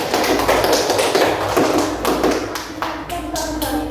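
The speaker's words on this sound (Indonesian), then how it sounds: "Kasih tepuk tangan untuk kelompok 1." A class of students claps for a discussion group during a school lesson, loud, uneven close-up clapping that tapers slightly toward the end, with children's voices mixed in.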